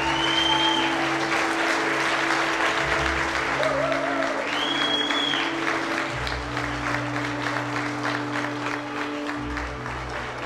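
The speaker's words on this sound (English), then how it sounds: "Let's give a big round of applause." A wedding reception crowd claps for a newly introduced couple, with steady, full applause lasting around ten seconds while music with a low bass line plays underneath.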